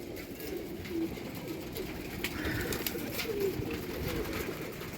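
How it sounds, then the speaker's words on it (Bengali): Domestic pigeons coo softly and repeatedly at a distance, their low throaty calls rising now and then over a faint outdoor background. "সব পায়রা ছেড়ে দিয়েছি নিচে"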